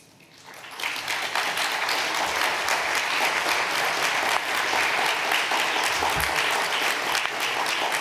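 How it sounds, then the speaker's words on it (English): An audience at a plenary session of a world religious peace assembly claps steadily and fairly loudly, a dense, even wash of applause that builds in quickly and holds for several seconds. "It's not as loud a clap as I would have hoped for."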